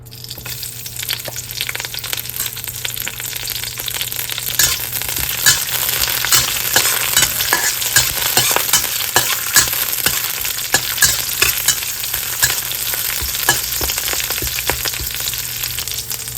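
Ginger and scallion hit hot oil in a wok, giving a loud, dense, continuous sizzle and crackle with stirring scrapes throughout, close and without talk.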